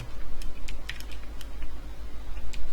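Computer keyboard keys clicked in an irregular run of sharp, close taps during Nox emulator setup for the mobile game ROV, with the space bar pressed repeatedly over a steady low hum.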